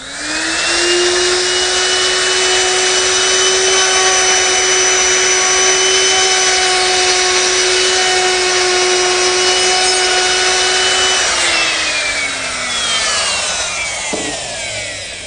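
A router fitted with a ball-bearing-guided chamfering bit cuts along a wooden planter slat, its loud steady high whine running unbroken for about eleven seconds before spinning down as the cut ends.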